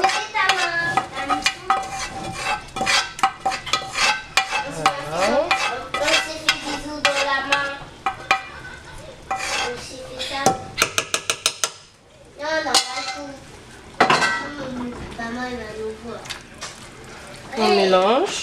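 Oxtail broth stirred in a pot, with scraping and clinking of a utensil against the pot in uneven bursts, a rapid rattling run midway, and a low background sizzle.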